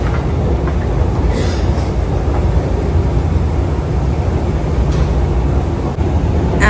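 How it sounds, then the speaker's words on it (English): A London Underground train running between Euston and Charing Cross makes a loud, steady rumble and rattle that fills the whole stretch without letup, heard from inside the carriage. "Just going to get the underground now to go to the Strand"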